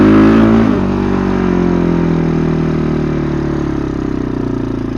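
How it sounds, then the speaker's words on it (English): A large Fendt tractor diesel engine rumbles steadily close by, a deep idling drone that barely changes over several seconds. "Now this, it's a Fendt tractor too from Germany."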